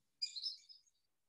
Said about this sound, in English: So we'll go on next to the green sandpiper, which is the other fairly common one.